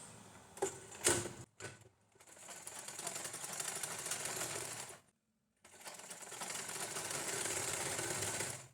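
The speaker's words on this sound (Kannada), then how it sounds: "ಇವಾಗ ನಾನು ಇಲ್ಲಿಗೆ ಬ್ಯಾಕ್ ನೆಕ್ಗೆ ಒಂದು ಸ್ಟಿಚ್ ಹಾಕ್ತೀನಿ" A sewing machine stitches the back neck of a lined blouse with a steady, fast mechanical whir, close and clear, preceded by a few handling clicks, then pausing briefly before running again.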